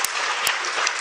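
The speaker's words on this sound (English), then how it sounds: "I think Sarah deserves a big round of applause for him." Audience applause at a public programme evaluation event, a continuous dense wash of clapping heard close and loud for a brief moment.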